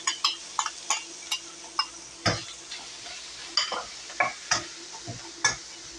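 Onion and garlic sauté in a pan with a soft sizzle under repeated sharp clinks and scrapes from a utensil stirring against the metal.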